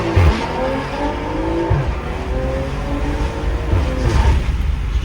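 A BMW M340i on hot drag radials launches hard, its engine rising through revs with a loud, close roar and some tire squeal, followed by further pulls under a continuous engine drone.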